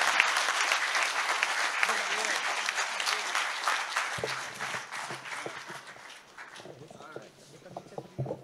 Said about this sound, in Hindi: आगे से पीछे तक जोरदार तालियों की गड़गड़ाहट के साथ आप आमंत्रित कीजिएगा आदरणीय संतोष।